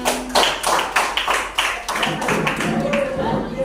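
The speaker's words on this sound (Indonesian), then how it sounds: "Tepuk tangan." A class applauding in an Indonesian classroom during teacher training, a burst of many hands clapping in quick overlapping claps for a few seconds, loud and close, with faint voices mixed in.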